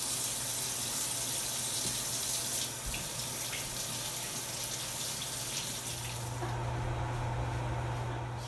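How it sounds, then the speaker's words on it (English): Tap water runs steadily into a sink while hands are washed beneath it, a continuous close hiss with faint splashing that brightens toward the end. "And remember to wash your hands."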